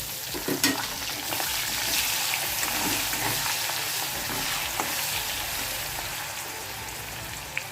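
Onions fry in fish oil with black cumin, giving a continuous, even sizzle with occasional faint pops and clicks throughout.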